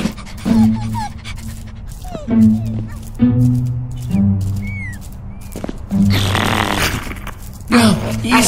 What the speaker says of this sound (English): How are we gonna get through here with none of them barking?